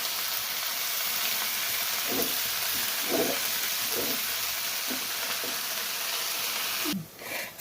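Mulai keerai greens fry in a pan with a steady broadband sizzle, broken by several soft stirring scrapes at regular intervals and a brief dip near the end.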